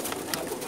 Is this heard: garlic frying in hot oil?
no